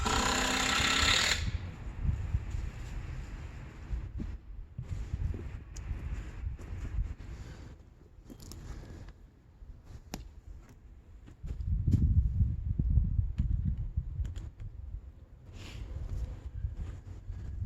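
A power driver sends a Torx screw into plywood in a few rough buzzing runs of low, grinding whir with pauses between, close by outdoors amid light wind noise.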